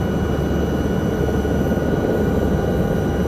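A helicopter flying in a flight simulator game gives a steady, loud rotor and engine drone, continuous and close, without speech.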